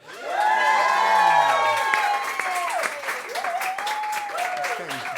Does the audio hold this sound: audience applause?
yes